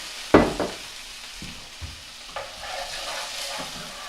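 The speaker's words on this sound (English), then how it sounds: "Give it a sizzle." Wine poured into a hot frying pan with garlic and fish drippings, a sharp initial hiss followed by softer sizzling and scraping stirs, close and without talking.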